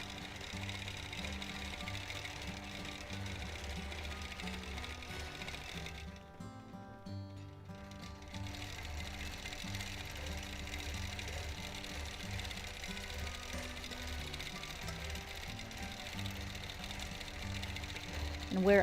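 Sewing machine stitching free-motion meandering quilting on a custom quilt, a steady mechanical whir of rapid stitches running nearly throughout with a short pause in the middle, alongside a voice talking over it.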